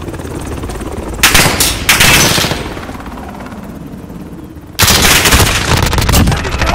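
Loud bursts of rapid gunfire fill an online team deathmatch in Call of Duty: Modern Warfare, with rattling automatic shots in several close, dense volleys separated by a brief lull.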